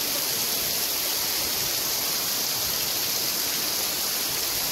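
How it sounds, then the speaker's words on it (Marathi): Heavy monsoon rain pouring down in the Konkan countryside on a wedding day: a loud, unbroken roaring hiss of downpour that stays constant throughout with no other sounds over it. "जोरदार पावसाची हजेरी."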